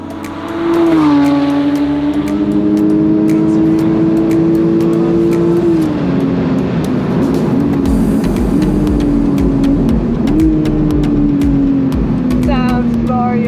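Vintage Porsche race car revving hard on track up to about 7,000 RPM at a speedway meet, a loud sustained engine drone with rising and falling rev pitch throughout, with faint voices underneath.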